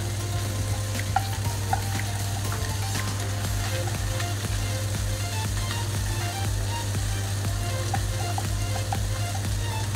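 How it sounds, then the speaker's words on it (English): Ginger and garlic fry in a hot wok for tofu, giving a steady, loud sizzle with scattered stirring clinks and scrapes throughout, with no talking. "So add ginger and garlic in, and then fry it together."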